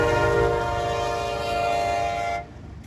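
A CSX freight train on the Indianapolis Line at Fortville sounds a long, loud, steady multi-tone horn up close over the rumble of passing cars, the horn cutting off near the end while the rolling noise continues.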